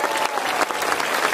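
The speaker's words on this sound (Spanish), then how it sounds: "Vamos a darle un fuerte aplauso a Él" Applause from a worship congregation praising God, a dense, continuous wash of many hands clapping together, loud and close, with faint crowd voices mixed in.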